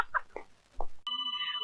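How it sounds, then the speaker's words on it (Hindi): A mobile phone ringtone bursts in abruptly after brief talk, a repeating electronic warble that stays fairly close and clear on its own. "ये दिल की घंटी नहीं, मोबाइल की घंटी है।"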